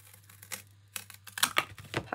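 Scissors snipping and cutting cardboard for a papercraft project, a series of close, crisp cuts and crinkling rustles that grow busier toward the end, with no talking.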